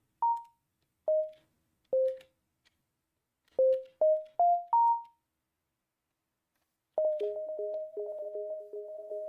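Clean sine wave tones processed through Elektron Octatrack effects presets: a series of separate short, decaying pitched pings at shifting pitches, then a sustained pulsing, stuttering tone pattern, loud and isolated.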